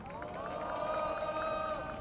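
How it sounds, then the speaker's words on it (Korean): A crowd at a political party press conference claps in a quick, regular rhythm while voices ring out together over the beat, moderately loud and steady throughout. "참석하신 분들의 힘찬 박수로 시작하도록 하겠습니다"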